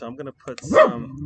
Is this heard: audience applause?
no